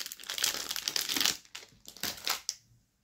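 Plastic wrapping is crinkled and peeled off glue sticks at close range, with bursts of crackling and rustling that stop near the end and fade into quiet.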